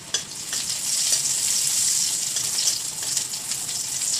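Panch phoron spices crackling in a little hot oil for vegetable dal, a loud, close, continuous sizzle with a sharp spit at the start and faint stirring underneath.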